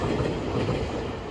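An old Kintetsu Railway train runs along with a steady, close rumbling roar and faint rhythmic wheel clatter throughout, no voices.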